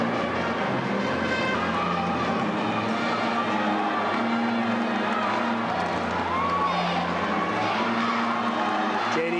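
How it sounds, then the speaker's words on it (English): High school football crowd on the Cazenovia side at a 1997 sectional final, a steady wash of cheering and voices from many people, continuous and fairly loud, heard from among the stands. "The Cazenovia crowd getting vocal here."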